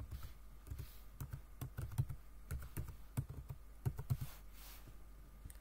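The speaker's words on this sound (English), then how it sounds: "type in the uh, the wireless key of your router so I'm just typing it right here" Quiet, quick tapping of keys on a laptop keyboard, irregular clusters of soft clicks with brief pauses between bursts.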